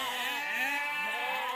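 Goats on a farm herd of over 200 animals bleat in a drawn-out, wavering cry, a clear tonal call fairly close and steady for over a second, alone without talk.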